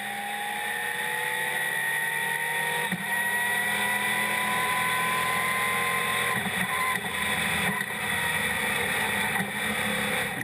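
NASCAR Whelen Euro Series stock cars roar off the start at Le Mans, a dense sustained engine drone with rising pitch sweeps as the pack accelerates, loud and continuous.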